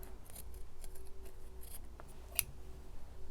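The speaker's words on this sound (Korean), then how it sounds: "필요 없는 지퍼 레일 부분 조금 잘라내 주도록 하겠습니다" Scissors snipping off excess zipper rail while sewing a slip dress, a series of quiet close clicks and cuts with one sharper snap near the end, over faint room hum.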